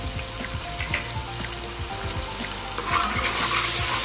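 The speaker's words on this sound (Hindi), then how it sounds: "अब हम इसमें हरी मिर्चों का पेस्ट शामिल करेंगे, जीरा और नमक शामिल कर देंगे" Garlic, ginger and green chilli paste fry and get stirred in a pan, a steady close sizzle with repeated scraping stirs that grows a little louder and hissier toward the end, with no talk.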